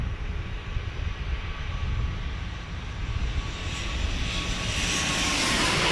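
A FedEx jet airliner at San Diego airport, its engines roaring loudly and steadily and swelling toward the end as it passes close by, filling the scene with broad rumbling noise.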